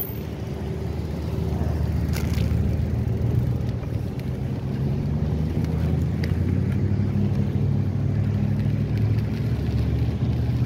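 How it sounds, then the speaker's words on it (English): Cars drive along a road at Fort Myers Beach, Florida, making a continuous loud, low engine and tyre rumble that holds steady and close throughout, with no talk. "Cars always have to come here at the wrong stupid time."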